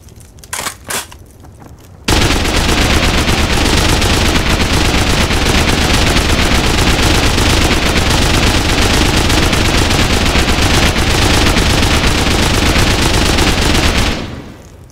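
M249 machine gun in the Rust video game firing one long unbroken burst of roughly twelve seconds, loud and dense, after a few brief isolated shots.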